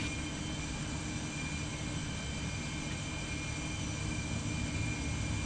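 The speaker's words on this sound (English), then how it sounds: "we're using the APU to start the left engine" A steady, loud jet engine roar heard from inside a Boeing 737 cockpit as the left engine starts using the APU, a constant droning hum with no voices.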